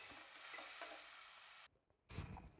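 Tomato and ginger frying in a pan for Mangalore-style cooking, a continuous close hissing sizzle that drops out briefly and returns with stirring scrapes.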